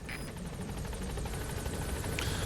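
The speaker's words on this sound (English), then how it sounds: "So we need to order a helicopter first." Helicopter arriving in Metal Gear Solid V, a steady rotor thump and whine held at moderate, even loudness for a few seconds with no speech.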